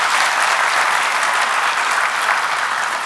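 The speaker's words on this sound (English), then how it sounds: "Please welcome them with a round of applause." Conference audience applauding for the esteemed speakers, a dense steady roar of many hands clapping at close range, continuous and loud throughout with no pauses.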